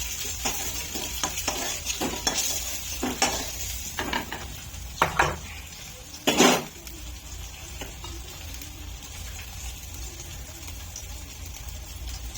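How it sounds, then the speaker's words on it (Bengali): Fried garlic sizzles in hot oil while a spatula scrapes and scoops it out of the pan, a soft continuous frying hiss broken by several clattering metal strokes, the loudest near the middle, with no voices. "রসুনটা ভাজা হয়ে গেছে, তুলে নেব।"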